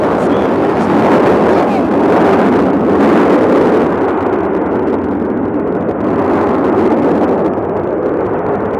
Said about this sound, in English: That's what an aircraft is supposed to sound like.